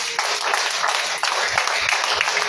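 Congregation in a church clapping and acclaiming, a dense, steady wash of many hands and raised voices sustained throughout, loud and close with small surges.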